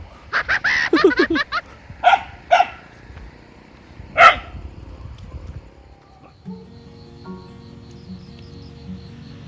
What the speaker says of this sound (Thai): มันมืดหมามันเห่า